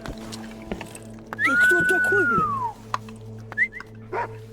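A dog in the video game CONVRGENCE gives a long rising-and-falling whimper followed by short yips and a brief bark, close and clear over a steady low game hum, with a person talking.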